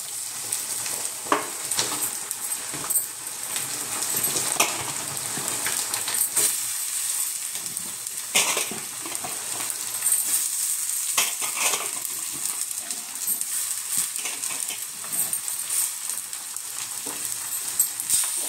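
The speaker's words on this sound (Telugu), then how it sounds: "దీన్ని బాగా వేగనిద్దాం కాసేపు." Beans, potatoes and chicken sizzle steadily in a hot pan, a loud continuous frying hiss with occasional stirring scrapes, no talk over it.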